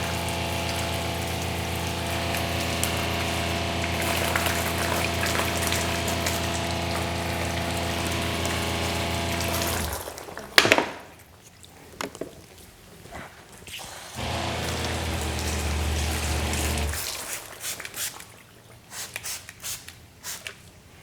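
A pump sprayer wets a car panel with water ahead of a Quivr Hot Coat IG737 coating test, a loud steady hiss running for about ten seconds, then short bursts and a second spray before it stops.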